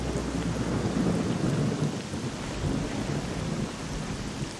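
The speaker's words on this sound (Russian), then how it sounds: "Блин, дождь еще." Heavy rain hisses steadily with a low thunder rumble underneath in S.T.A.L.K.E.R.: Shadow of Chernobyl, an even, unbroken downpour with no voices.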